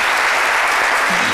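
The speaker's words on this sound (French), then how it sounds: "Je vous demande de l'applaudir." Studio audience on a French-language daytime television talk show bursts into dense, steady applause, a loud wash of many hands clapping together with no gaps.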